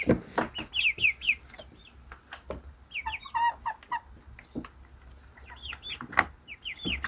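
Several chickens cluck busily nearby in a garden in short, overlapping bursts, with occasional sharp clicks and taps between the calls.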